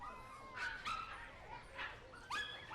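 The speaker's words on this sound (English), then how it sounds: "Elliot was a little puppy who lived in a pet store." A little puppy in a pet store whimpers and yips in short, high, faint cries, four or so separate calls over a quiet background.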